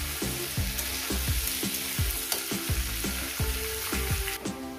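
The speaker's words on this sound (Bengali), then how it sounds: "7-8 মিনিট ধরে ভাজতে হবে" Young pumpkin and potatoes frying in a pan over medium gas, a steady sizzle with repeated scraping and stirring strokes of a spatula in an irregular rhythm, close and clear, no talk.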